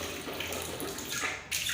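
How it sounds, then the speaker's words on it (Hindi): Water runs and splashes softly at close range as the mouth is rinsed during wudu ablution, a continuous gentle trickle with brief sloshing surges. "सही से 3 मरतबा कुल्ली करें"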